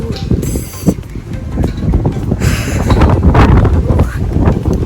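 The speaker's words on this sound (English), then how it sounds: "It's windy and it's gonna rain." Steady gusting wind in Odaiba, Tokyo, in spring buffets the microphone with a low rumble, over faint mechanical clicks and creaks throughout.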